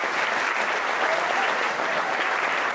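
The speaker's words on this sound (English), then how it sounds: "Let's give an applause to Trent Moyer." Wedding guests clap together during the reception speeches, a dense, even burst of applause that stays steady and fairly close throughout, with no talking over it.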